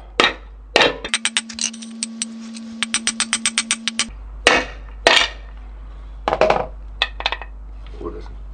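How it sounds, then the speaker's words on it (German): Rubber mallet or hammer handle striking a quad gearbox shaft in a workshop, a series of sharp metallic clangs and rapid tapping bursts, with a brief steady hum in between. "Also hier nehmt ihr einfach entweder Gummihammer oder haut mit einem Hammerstiel hier drauf."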